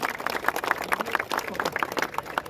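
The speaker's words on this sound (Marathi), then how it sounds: "परत एकदा अनुजसाठी सगळ्यांनी टाळ्या वाजवायच्या" Crowd clapping for Anuj at a Govinda Pathak Narli Pornima festival, a dense patter of many hands applauding together, steady and lively for the whole stretch, no speech over it.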